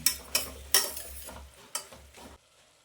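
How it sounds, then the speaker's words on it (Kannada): Chopped spinach is stirred with salt in a pan, giving several sharp scraping strokes and clatters of a spoon against metal, with a soft sizzle in between and no talking. "ಈಗ ನಾನು ಸ್ವಲ್ಪ ಉಪ್ಪನ್ನು ಹಾಕಿ ಚೆನ್ನಾಗಿ ಮಿಕ್ಸ್ ಕೊಡ್ತೀನಿ"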